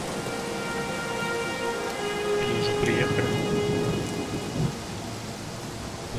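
Heavy rain pours with rolling thunder in the Blues and Bullets video game, a steady loud downpour with a deep rumble swelling midway; someone speaks briefly over it.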